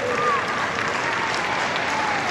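Steady, dense applause from the crowd at a women's W-League semi-final football match, loud and continuous throughout, with a commentator's voice faintly mixed underneath.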